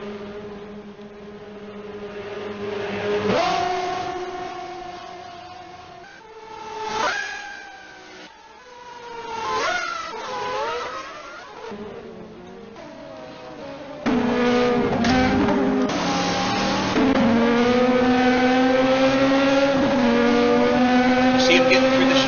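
Acura LMP2 prototype race cars in a racing video game scream past in waves, engines rising and falling through gears, then a sustained loud high-pitched engine drone, with a commentator talking over.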